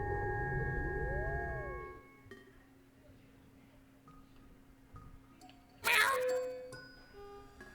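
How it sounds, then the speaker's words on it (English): A cat meows in a video game, a rising then falling tone over a steady musical drone, followed by quieter game sounds and a sudden bright chime-like burst near the end. "There's the cat."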